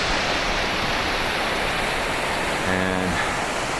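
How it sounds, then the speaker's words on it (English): A mountainside waterfall on a High Sierra trail pours in a constant broadband rush, loud and unbroken, with a brief faint tonal whistle near the end. "More waterfalls all the way down."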